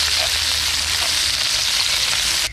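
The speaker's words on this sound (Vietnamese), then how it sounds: "Đợi mình bắt đầu chiên phòng tôm" Shrimp chips fry in a pan at an outdoor campsite, giving a loud, dense and steady sizzle close by that runs without a break.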